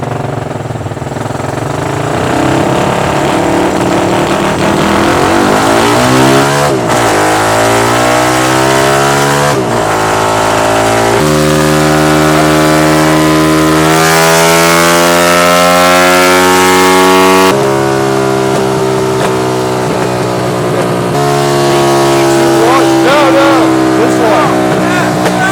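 A pocket rocket mini bike engine revs on a dyno, its loud whine climbing and falling in pitch through several pulls over a steady background roar.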